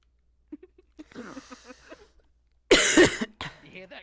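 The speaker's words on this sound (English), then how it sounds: "You hear that cough?" A person talks briefly, then lets out a loud, harsh cough burst, followed by a shorter second cough, close to the microphone.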